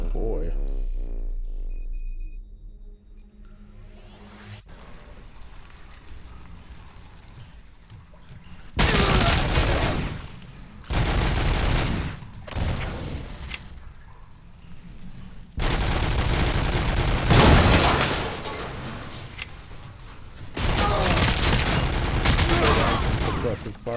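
Gunfire from the RoboCop video game comes in several loud, sustained bursts of rapid shots with booming impacts, separated by quieter stretches with game sounds and someone talking briefly.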